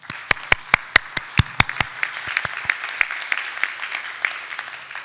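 A small audience at a molecular cloning workshop applauds a colleague: a few loud, evenly spaced hand claps up close open it, then scattered lighter clapping trails off.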